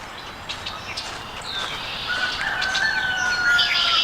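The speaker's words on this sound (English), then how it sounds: "Rooster crowing." A rooster crows in a long drawn-out call at a moderate distance, heard over faint outdoor ambience with a few other bird sounds.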